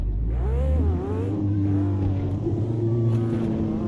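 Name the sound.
Corvette race car engine in Automobilista 2 video game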